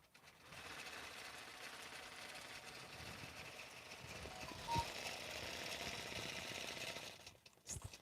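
A quilting machine stitches a star pattern, a fast, continuous mechanical whirr with rapid needle pulsing that runs steadily before stopping near the end; faint and quiet overall.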